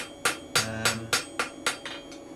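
Steady hammer blows ring on hot steel as a blacksmith rounds off a tong blade, seven strikes in an even rhythm, close and bright with a metallic ring after each hit.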